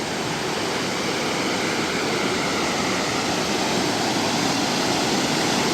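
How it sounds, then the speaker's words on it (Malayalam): Cheeyappara waterfall near Munnar in Kerala, a large cascade heard as a dense, continuous roar of falling water, loud and unbroken throughout, with no voices. "ഇതാണ് ചീയപ്പാറ വാട്ടർഫാൾസ്."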